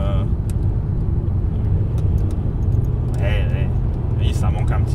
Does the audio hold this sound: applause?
no